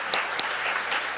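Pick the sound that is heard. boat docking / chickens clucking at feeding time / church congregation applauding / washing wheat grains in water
church congregation applauding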